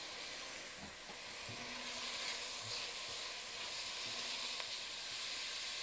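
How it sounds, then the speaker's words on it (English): Celery and carrots sizzling steadily in a pot for minestrone soup, a broad even hiss with occasional faint pops and stirring clinks, close and continuous with no talking. "Now we're going to cook this for about 5 to 7 minutes so that our carrots and our celery get softened up"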